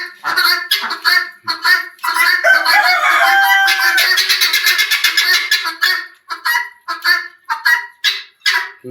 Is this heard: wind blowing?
no